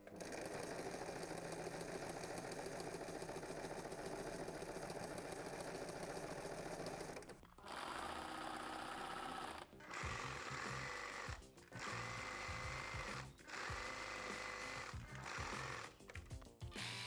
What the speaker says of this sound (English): I'm going to sew the pockets right sides together on each side